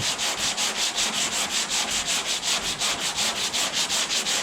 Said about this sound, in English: I may end up just taking a piece of sandpaper with my fingers, making it round.